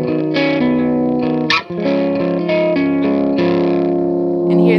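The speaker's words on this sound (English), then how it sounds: "So I'm going to demonstrate the pedal with the gain all the way up" Electric guitar picked lightly through a germanium fuzz pedal with the gain fully up, sustained distinct notes with a fuzzy edge ringing out over several seconds, one brief gap midway, loud and close.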